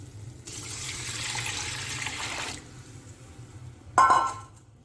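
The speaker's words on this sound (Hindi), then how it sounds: "तो अब मैं डालूँगी यखनी।" Liquid beef stock (yakhni) and water gush steadily into a pot of rice for golden pulao, a loud continuous pour lasting about two seconds, followed by a sharp clatter near the end.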